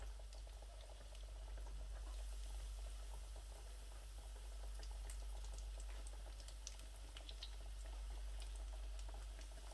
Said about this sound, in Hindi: तमाम नगेट्स जो हैं मैंने ऑयल में ऐड कर दिए हैं।